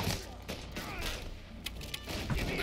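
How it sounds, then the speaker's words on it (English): Gunshots in Mafia Definitive Edition, a faint scattered volley of pops and thuds in quick succession, kept low under background game noise throughout. "Who's shooting me?"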